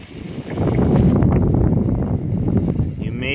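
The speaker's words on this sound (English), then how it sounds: "what you're hearing is a number 8 injector sending a little air and what's left of my oil out through the spigot" Air and leftover oil spitting out through a spigot from the number 8 injector of a Ford 7.3 diesel, a steady, loud, broadband hiss and sputter that builds in quickly and continues close to the microphone.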